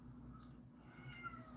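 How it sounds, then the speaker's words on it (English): A pet cat meows faintly in a home kitchen, a brief soft call or two over a steady low background hum, with no talking. "you can hear my cat meowing"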